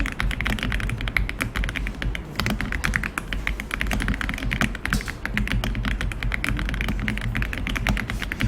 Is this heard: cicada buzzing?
no